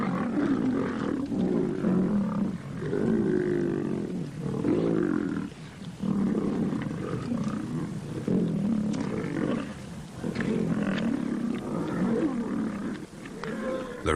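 Lions feeding on the Serengeti growl and roar in a continuous, rumbling snarl, close and loud, with rhythmic throaty pulses and no talk over them.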